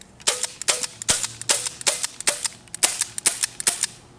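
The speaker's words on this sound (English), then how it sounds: "Bro, you started shooting the tip of it?" Gun shots fired repeatedly at a target outdoors, about a dozen sharp, loud cracks in a quick, uneven rhythm, with no talking.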